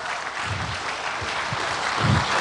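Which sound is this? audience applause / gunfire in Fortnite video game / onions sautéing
audience applause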